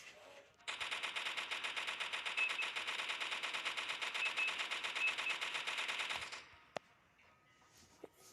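An M60 machine gun fires a long, continuous burst in a Roblox game, loud and dense for over five seconds, then stops and is followed by a couple of isolated clicks.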